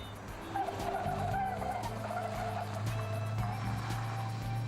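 A Ford Cortina rally car sprints up a mountain road during a long-distance rally, its engine droning loud and steady throughout with tyre skidding noise on top, close and continuous, with no talk.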